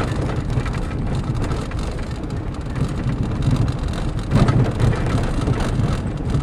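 Steady rain drumming on a minivan parked in the woods on a wet morning, a dense continuous patter that swells briefly near the end, with no talking.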